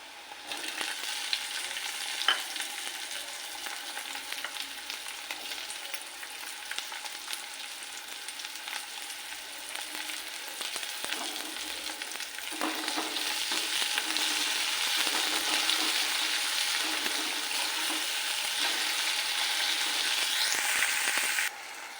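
Onion and tomato frying in a pan for a homemade bombil (Bombay duck) curry, with a steady bright sizzle that swells after fresh ingredients go in, broken by occasional stirring scrapes.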